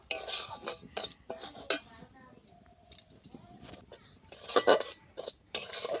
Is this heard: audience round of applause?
no